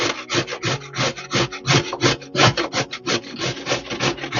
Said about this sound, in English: here I have carrots that I'm just going to shred using my grater